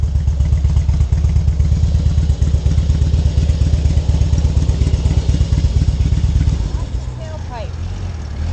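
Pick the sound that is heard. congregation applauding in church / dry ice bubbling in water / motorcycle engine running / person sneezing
motorcycle engine running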